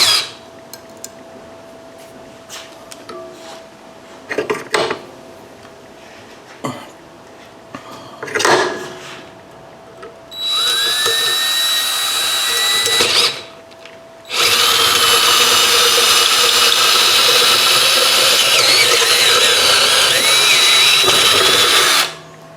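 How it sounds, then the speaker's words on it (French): A power drill bores into hard steel in two long, loud, whining runs, near and continuous, after some scattered clunks and handling noises during setup. "Donc, étape numéro 1, on perce."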